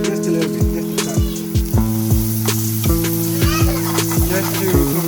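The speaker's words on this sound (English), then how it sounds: "we're gonna flash it with a little bit of oil, just a little bit, just a touch" Shimeji mushrooms sizzling in a pan as a little oil is added, with a steady frying hiss and crackle under rhythmic plucked music.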